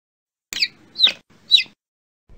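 Chickens on a farm give three short clucking calls, evenly spaced about half a second apart, clear and fairly close against a quiet background.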